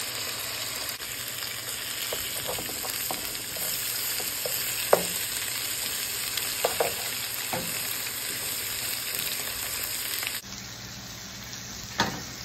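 Mexican chorizo frying in a pan, a steady dense sizzle with occasional utensil scrapes and taps throughout, dropping to a quieter crackle near the end.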